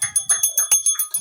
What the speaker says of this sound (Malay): Loceng.